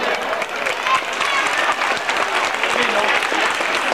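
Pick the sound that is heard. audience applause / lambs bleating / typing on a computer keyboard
audience applause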